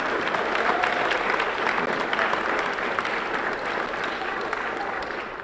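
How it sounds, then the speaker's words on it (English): Audience applause for a woman seated at the back of the room during a live shorts screening event, steady dense clapping throughout, fairly loud and continuous with faint voices mixed in. "Let's give Julie a round of applause"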